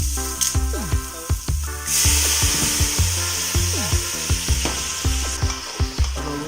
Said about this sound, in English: Rub the bottom of the pan, get all those good bits out.